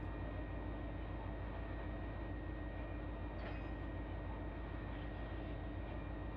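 A CSX local freight train running in Run 8 Train Simulator, a steady low diesel rumble and rolling drone held throughout, with a faint brief squeal partway through.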